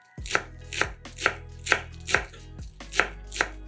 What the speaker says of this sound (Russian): Нарезаем пучок зеленого лука